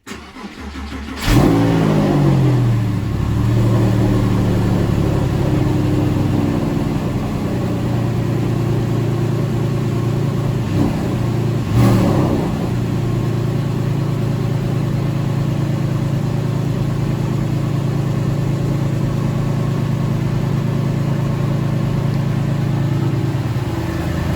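A Porsche 997 engine, started after six weeks of sitting, cranks and fires up with a loud burst, settles into a throaty idle, then blips once before idling steadily again.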